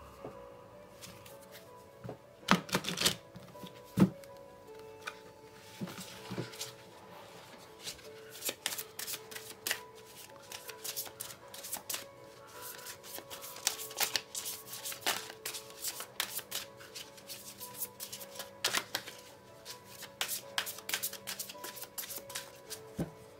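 Tarot cards being shuffled by hand, a near, continuous run of soft riffling and slapping clicks lasting throughout, with no talking.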